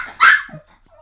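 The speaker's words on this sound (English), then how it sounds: "I'm not sure how the dog got in here." Indoors, a dog gives one loud, sharp bark close by, followed by a few faint, short whimpers.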